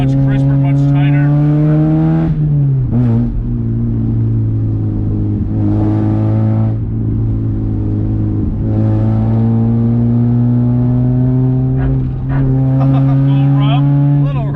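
A car engine revs up and drops back between gear shifts, loud and steady, with a person talking over the drone.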